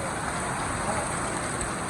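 Heavy rain pours in a dense, steady hiss, loud and continuous without pause.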